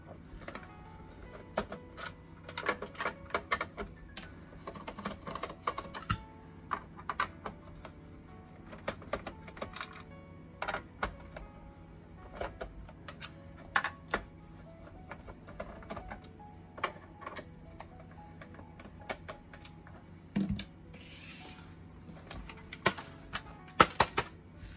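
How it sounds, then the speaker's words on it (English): Number 2 Phillips screwdriver backing six screws out of a PlayStation 1 console case, heard as close, quiet irregular clicks, ticks and scrapes scattered through a steady low hum, with no talking. "All you're going to need is a number 2 Phillips. Remove the 6 screws around here."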